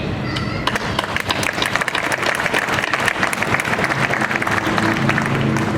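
Sustained applause from a summit audience fills the room, dense steady clapping with scattered crowd noise, loud and close throughout.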